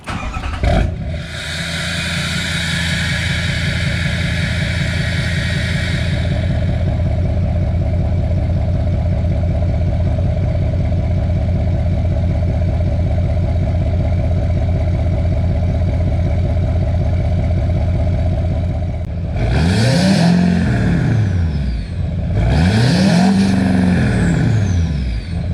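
A diesel truck exhaust, a Duramax LML with a full 5-inch MBRP system and muffler, rumbles steadily at idle with a deep tone, then revs up twice near the end, the second rise loud and close.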